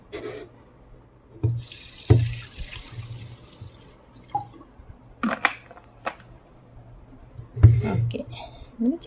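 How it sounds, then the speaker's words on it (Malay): Water is poured into a beaker holding rice and wooden twigs for a classroom mixture experiment, a soft, quiet splashing trickle with faint clinks and low voices nearby. "Cikgu akan masukkan air."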